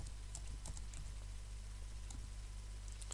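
Keys tapped on a computer keyboard while a short line of PHP code is entered, a scattered run of quiet clicks over a steady low hum, with no talking.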